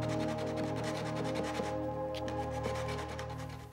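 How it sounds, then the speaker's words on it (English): Sandpaper worked by hand over wood on an old Carnegie library card catalog under restoration, a soft continuous rubbing scratch heard up close without speech, set against a steady tonal hum in the room. "Sanding by hand with some of these tools should help eliminate some of the marks"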